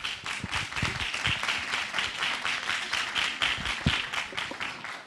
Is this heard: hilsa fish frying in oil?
no